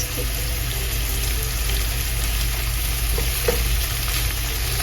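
Finely chopped onions and curry leaves fry in hot oil, a steady close sizzle and crackle running unbroken the whole time with faint stirring scrapes underneath.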